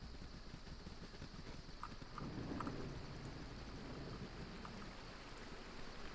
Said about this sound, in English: Someplace that would be dry would be good, given that it just started raining.